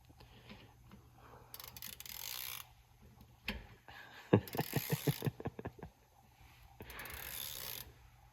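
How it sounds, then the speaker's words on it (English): A ratchet wrench turns a socket on a tractor, clicking in a quick run of sharp, close ticks amid bursts of hiss and mechanical clatter, fairly quiet overall. "Now pinch the socket. Now bring your ratchet back."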